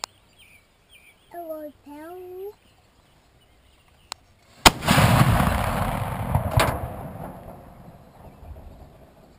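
A 6-pounder anti-tank gun fires a single blank round in a sudden loud boom that rolls into a long, rumbling echo and decay, following a few faint sounds and a brief click beforehand.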